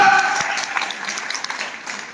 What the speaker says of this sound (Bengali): একটা জোরে হাততালি মারুন